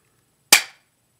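An HFC M190 spring-powered airsoft rifle fires a single shot: one sharp, loud snap with a short decaying tail, alone in near silence.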